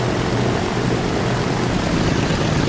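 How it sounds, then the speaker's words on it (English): A C-47 / DC-3 cargo plane with propeller engines in the Train Fever video game, giving a steady, loud, droning propeller-engine roar that holds constant throughout with no talking. "It's a C-47, or a DC-3. It's a cargo plane."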